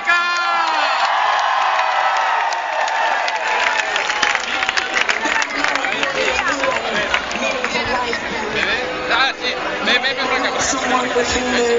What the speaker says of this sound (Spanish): ¡Un aplauso! ¡Arriba, Chueca!